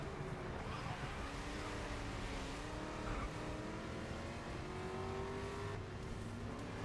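V8 race car engines in GRID Legends drone and rise in pitch through the gears, a continuous throaty racing roar with brief tire squeal, steady and fairly quiet throughout.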